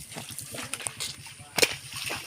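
Water sloshes and splashes in quick bursts during the last rinse of laundry, including underwear. The splashing is close and moderately loud, and people talk faintly under it.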